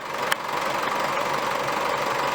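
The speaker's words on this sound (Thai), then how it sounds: "สียงนิ่มเลยนะครับ รถรุ่นนี้นิ่มอยู่แล้ว" A well-maintained car engine with about 50,000 km on it idles smoothly and steadily, loud and close with a constant even hum and one brief tick near the start.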